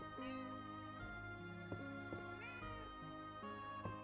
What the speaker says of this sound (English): We have a little kitty